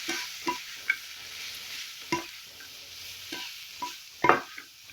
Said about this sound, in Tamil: சேர்த்துட்டு நல்லா கிளறி விட்டுக்கலாம்.